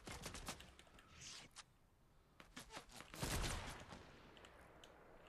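Rapid bursts of gunfire from a Fortnite match crackle in quick, uneven clusters, sharp cracks stacking into dense volleys with one heavier, louder burst near the middle, fairly close and without talk over them.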